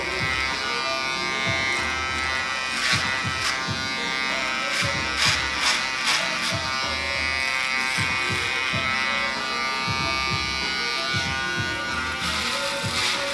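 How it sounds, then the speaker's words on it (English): An electric shaver buzzes steadily and up close throughout, its hum shifting in pitch as it passes repeatedly over hair during a high skin fade haircut. "I'm going over and over with the shaver."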